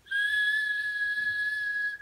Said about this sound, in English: I can whistle with my teeth.